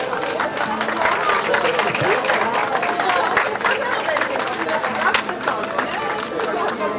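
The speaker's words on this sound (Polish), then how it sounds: "Brawa dla dziewczyn z kategorii K30." A crowd claps through the award ceremony of a triathlon as women in the K30 category are honoured, steady loud outdoor applause mixed with chatter and an announcer's voice.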